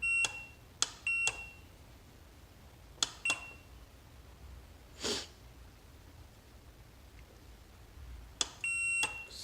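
Multimeter continuity tester on the membrane traces of a REC TEC wood pellet grill control panel, giving short high electronic beeps in irregular pairs and bursts with quiet gaps between, near and fairly loud, with no talk.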